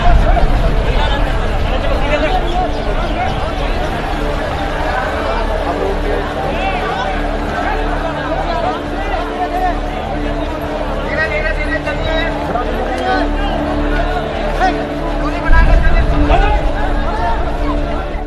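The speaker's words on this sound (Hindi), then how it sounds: "किसी के बस की है ये भीड़?" Large crowd of migrant workers boarding a Shramik train, a dense continuous hubbub of many overlapping voices with shouts and general commotion throughout.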